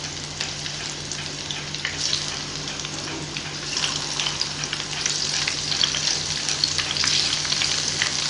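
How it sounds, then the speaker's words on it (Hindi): Taro leaf rolls, coated in gram-flour batter and steamed, fry in hot oil with a steady, close sizzle and crackle, while faint stirring scrapes and a little water noise come and go underneath; no one speaks. "मैं इनको भी ऐसे ही अच्छे से फ्राई करूंगी।"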